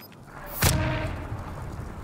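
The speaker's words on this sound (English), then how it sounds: "He's shooting." A single sharp, loud gunshot cracks in Call of Duty Warzone, close and abrupt, followed by a lingering rumbling tail and faint background game noise.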